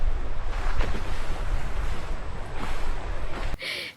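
Strong wind at a hillside campsite in Liliw, Laguna gusts and roars against the microphone in steady surges, with a rushing, surf-like texture, cutting off abruptly near the end.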